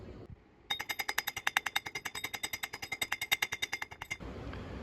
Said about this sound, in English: I just welded the hub to the pulleys